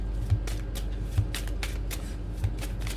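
Tarot cards being shuffled by hand, a rapid papery riffling and slapping in quick repeated bursts with a few soft thumps, close and fairly quiet, no voice over it.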